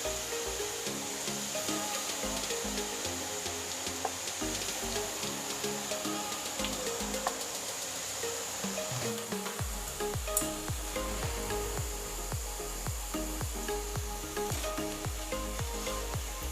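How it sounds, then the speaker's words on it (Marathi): Gram flour batter fries in hot oil for vada pav, giving a continuous close sizzle and crackle with small bursts of bubbling as more batter drops in. "हे जे पीठ असतं हे पीठ असं याच्यामध्ये सोडायचं आहे थोडं थोडं आणि ते तळून घ्यायचं आहे"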